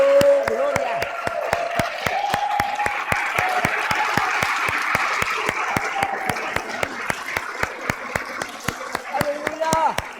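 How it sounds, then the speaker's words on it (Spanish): A church congregation claps in a steady, rhythmic beat, sharp evenly spaced hand claps continuing for about ten seconds while a preacher's voice and singing carry along underneath. "Sígale aplaudiendo, sígale aplaudiendo, sígale aplaudiendo, sígale aplaudiendo."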